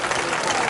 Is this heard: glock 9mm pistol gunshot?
no